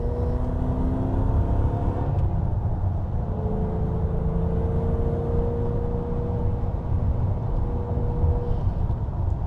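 A 1995 Aston Martin V8 Vantage V550 with a 550-horsepower twin-supercharged engine accelerates under load, a loud continuous rumble with rising engine tones and supercharger whine heard from inside.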